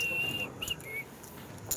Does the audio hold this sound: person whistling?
yes